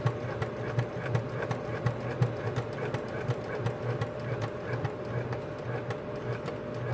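A sewing machine stitches a front accent piece with a longer stitch length, a quick even mechanical chatter running steadily at close range, with no talking.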